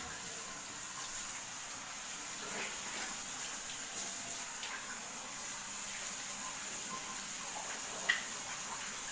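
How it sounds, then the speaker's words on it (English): Water runs from a faucet as hands are rinsed at a sink, a soft, steady stream with faint splashes, quiet and continuous. "Then, don't turn off the faucet after rinsing."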